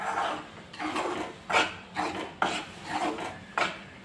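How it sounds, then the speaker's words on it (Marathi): Semolina and flour being roasted in a pan for rava and besan modak, giving a steady dry scraping and rasping as a spatula stirs, with rhythmic strokes roughly every second and no talking. "आता मी इथं पीठ भाजायला घेते"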